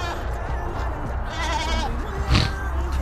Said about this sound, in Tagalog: Mga kambing natin sa likuran.